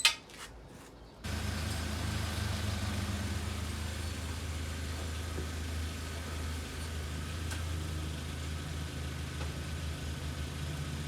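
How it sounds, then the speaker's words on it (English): A 2005 Volkswagen Passat 1.8T engine idles steadily and evenly after an oil change, a close, continuous low hum with no talk, following a brief quieter start. "It already seems like it's idling better, smoother."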